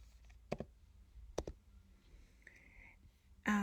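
A computer keyboard is typed on: a few sharp, separate key clicks spaced apart, close and quiet, with a brief faint whir near the end.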